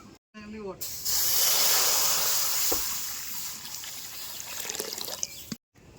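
Water poured into a hot kadai on a wood stove gives a strong continuous hiss and bubbling sizzle, with a brief voice at the start.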